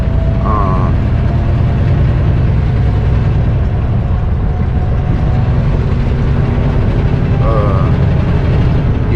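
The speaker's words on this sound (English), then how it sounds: "Using your Jake brake." A semi truck's engine brake (Jake brake) works on a downhill grade, giving a loud, continuous, low droning rumble that holds steady throughout.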